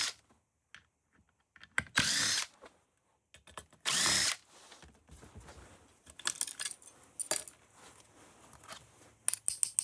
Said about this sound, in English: Now I just need to remove more screws.